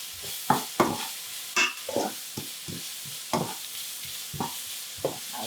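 Vegetable curry with chili and garlic cooking in a pan, close stirring scrapes and knocks repeating in an uneven rhythm over a soft background sizzle, no voices.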